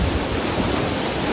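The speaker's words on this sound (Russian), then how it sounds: "Какие шикарные волны. Какая стихия просто могущественная." Ocean waves surge steadily at a natural sea pool on the Mexican coast, a continuous loud wash of surf with no breaks and no voices.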